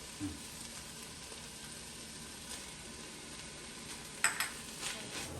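Mutton curry masala sautéing in a pan makes a quiet, steady sizzle, with a few soft scrapes and one sharp utensil clink near the end.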